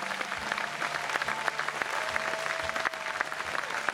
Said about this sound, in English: Will you please give all our crew a round of applause